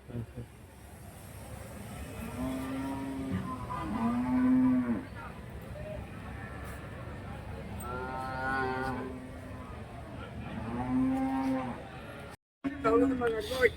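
Cattle and calves at a busy livestock market in Krishnagiri district, with several loud drawn-out moos from nearby animals rising over a constant hubbub of voices and crowd noise.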